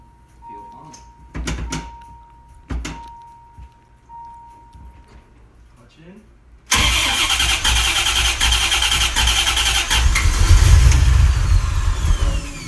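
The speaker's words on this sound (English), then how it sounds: "After finally putting the car all back together, it was now time for the first start." A 1988 Corvette with a full exhaust cranks and fires on its first start after reassembly: a few short cranking bursts and door clunks, then the engine catches into a loud, steady idle that swells slightly, close by, with people talking underneath.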